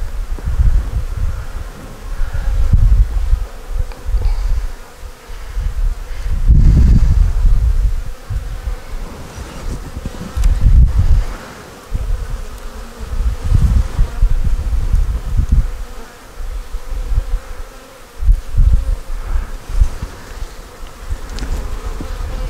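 Honeybees buzz around an opened hive as frames are checked for a queen, a close, dense hum that swells and fades with bursts of wind and handling rustle.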